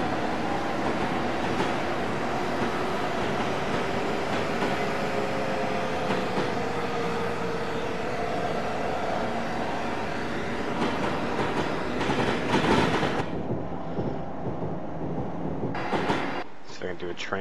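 An Acela Express train in Train Simulator 2015 rushes past with a loud, steady rumble and rail roar, a rising tonal whine sliding through it, then cuts off abruptly near the end; a voice speaks faintly underneath.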